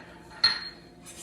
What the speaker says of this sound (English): you're gonna add your garlic in and stir that in